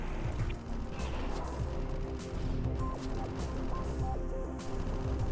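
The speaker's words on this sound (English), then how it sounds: "Oh, I hear gunfire." Dense rapid gunfire rattles through a Metroid video game scene with an Omega Metroid, loud and continuous with scattered impacts and crashes layered over rumbling game audio.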